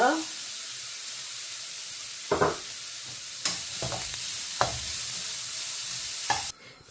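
Grated coconut dry-roasting in a pan: a soft, steady hiss broken by several sharp scraping strokes of a stirring spoon against the pan, close and fairly quiet, with no talk.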